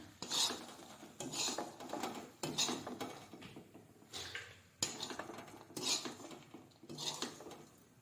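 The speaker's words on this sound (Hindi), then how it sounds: "तो इसी में हम अपने पोहे को भी सेक लेते हैं।" Poha roasted in a dry pan without oil, stirred with a metal spoon in repeated scraping, rattling strokes about once a second, fairly quiet and close with no speech.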